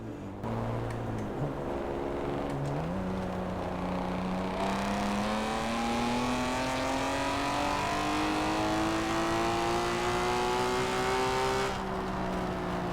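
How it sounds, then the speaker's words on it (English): A car in the Forza racing game cruises with a steady engine tone, then downshifts with a quick rev blip and accelerates, the engine pitch climbing smoothly and loudly for several seconds before easing off near the end. "There is an additional clip in the Adobe project of the subject car cruising and then downshifting to accelerate"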